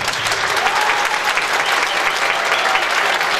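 Sustained audience applause at a 25th-anniversary gala night in Turkey, a dense wash of clapping from a large crowd, steady and loud throughout without speech.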